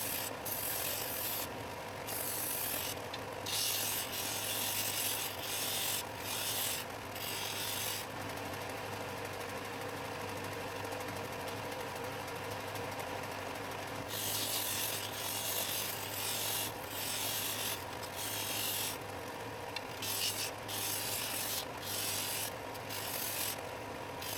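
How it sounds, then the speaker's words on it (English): A belt sander smoothing wooden semicircles cut with a Japanese pull saw for a glasses holder, giving a steady, continuous abrasive rasp with a low motor hum throughout, loud and close, with slight surges as pressure shifts. "Then I use the belt sander to make the semicircles completely smooth."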